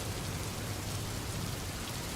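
Rain falls in a steady, even hiss, soft and constant throughout with no other sounds.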